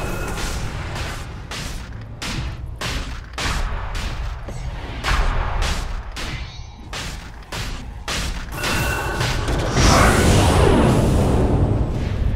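A Dota 2 battle at a tower plays out as a loud, busy mix of repeated impacts, booms and whooshing ability effects, thickening into a dense roar of fighting toward the end.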